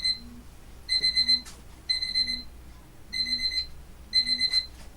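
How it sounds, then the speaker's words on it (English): An alarm clock rings in four evenly spaced bursts of rapid high electronic beeping, close and clear over a low steady hum, with no talking. "Oh, my alarm's going to go."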